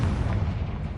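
A Confringo fire spell blasting in Hogwarts Legacy, a single loud, close, boomy explosion with a heavy low rumble that fills the whole second.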